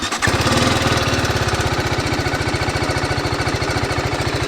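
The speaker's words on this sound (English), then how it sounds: "I'm gonna crank up the motorcycle" A TVS Apache RR 310 BS6 motorcycle engine cranks and catches, then settles into a loud, close, steady rhythmic thrum with pulsing exhaust beats throughout.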